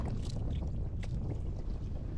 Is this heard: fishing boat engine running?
yes